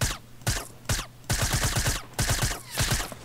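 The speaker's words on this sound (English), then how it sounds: "I can start shooting out their base" Loud rapid bursts of gunfire in a shooting video game, with a silenced weapon firing at an enemy base in quick volleys separated by brief pauses, close and dominant with no talking.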